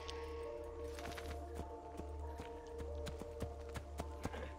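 Horse hooves clip-clop at a steady walking pace in Assassin's Creed II, fairly close and clear over a low ambient hum.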